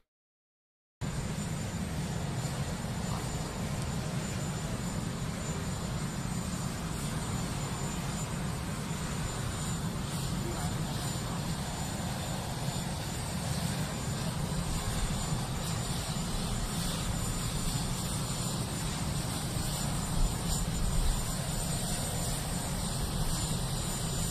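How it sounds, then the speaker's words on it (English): Helicopters sit at a windy presidential inauguration ceremony, their engines and rotors making a loud, continuous roar that starts abruptly and runs unbroken for over twenty seconds. "President Biden and First Lady Dr. Jill Biden, they walk over to the helicopters."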